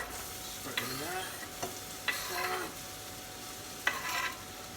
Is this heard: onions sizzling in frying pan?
yes